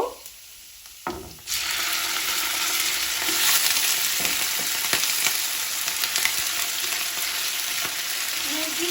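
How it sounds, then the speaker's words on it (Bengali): Chopped garlic hits hot oil in a pan and sizzles loudly and steadily while being lightly fried and stirred, after a short quiet start. "রসুনটা হালকা করে একটু ভেজে নিব"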